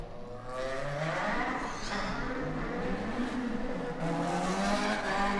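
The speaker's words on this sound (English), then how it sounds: "Plenty of power from these cars, distinctive sound from the Hondas." Honda race cars pulling out onto the track for a warm-up lap at an ICCR round, engines droning and rising and falling in pitch as they pass, heard from a distance with a continuous blended roar.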